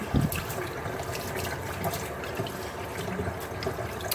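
Running water rinses moisture shampoo out of raw Indian hair, making a steady, moderately quiet splashing flow with a brief louder gush at the start.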